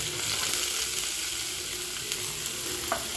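Chopped onion sizzling in a hot pan with garlic and green chilli for a veg momo filling, a steady close hiss of frying with a few faint stirring clicks, no voices.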